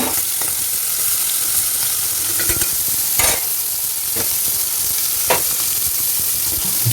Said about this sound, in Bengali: চিংড়ি মাছগুলো পাশাপাশি ভাজা হয়ে যাবে।